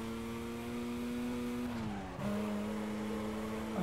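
A car drifts with squealing tyres in Need for Speed Carbon, a sustained engine tone with a high tyre squeal that dips as the car slides, then resumes steadily, with no talk over it.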